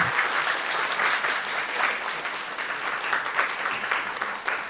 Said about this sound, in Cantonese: 我哋以掌聲歡迎佢哋。